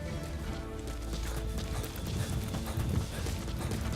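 Horse hooves clip-clopping steadily with a brief whinny, ridden through the Afghanistan setting of the Metal Gear Solid 5 video game, heard continuously over a low rumbling game soundscape.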